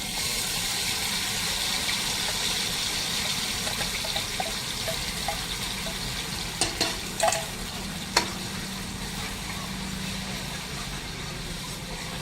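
Aloe vera paste stirred into hot oil in a pan for a Punjabi curry, giving a steady, close sizzle and frying hiss throughout with a few soft stirring scrapes and clicks partway through.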